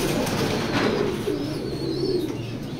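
A male racing pigeon coos in a loft, soft low rolling calls close by over a constant background hum, with no talk.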